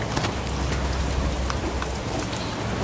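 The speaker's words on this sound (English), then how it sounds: "it's raining outside" Steady, fairly heavy rainfall with a dense patter of drops on surfaces, constant throughout and no voices.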